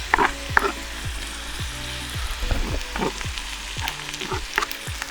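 Onions frying in a pan during a Moroccan omelette cooking class at Todra Gorge, a steady close sizzle broken by repeated scraping stirs, with no talking.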